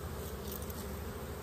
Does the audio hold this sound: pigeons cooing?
no